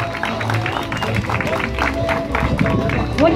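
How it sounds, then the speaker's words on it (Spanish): A crowd at an outdoor political campaign rally in Tulum claps and cheers, a dense continuous wash of applause with some crowd noise underneath, fairly close and steady for the whole stretch. "Pero fuerte los aplausos"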